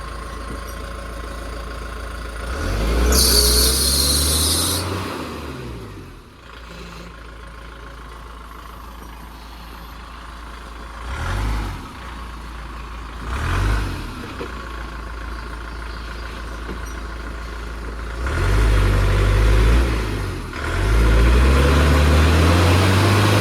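A mini JCB engine drones steadily, with several loud revving surges as its wheels spin on wet ground, heard up close with no talking.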